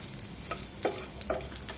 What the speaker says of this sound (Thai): แล้วก็มาคั่วในกระทะ ผมจะใส่น้ำมันไปนิดหน่อยนะครับ